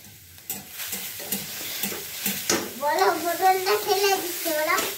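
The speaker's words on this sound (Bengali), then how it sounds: "আবার ঢাকাটা উঠে নিয়ে আবার নাড়াচাড়া করে নিচ্ছি, নাহলে লাগে যাবে।" Grated carrots for carrot halwa are stirred in a frying pan with scraping, sizzling strokes, close and steady, while a young child babbles and vocalizes nearby during the second half.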